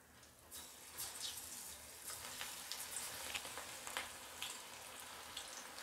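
Pakoda made from black-eyed pea batter fries in hot sunflower oil, a soft, continuous crackling sizzle with scattered sharper pops and faint utensil scrapes, heard fairly quietly with no voices.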